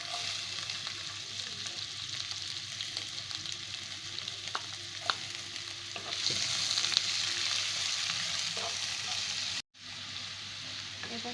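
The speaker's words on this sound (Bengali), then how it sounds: "পেঁয়াজটাকে লাল করে ভেজে নিয়েছি।" Chopped onions with cumin fry in a pan in a steady, close, hissing sizzle that swells slightly partway through, then cuts out briefly before resuming.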